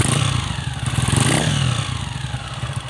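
A Honda TMX 125 motorcycle engine, with its stock carburetor restored, runs loud and close, its revs rising and falling slightly in a steady rumbling idle around 1,500 RPM with a mechanical clatter.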